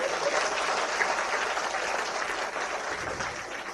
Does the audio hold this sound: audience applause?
yes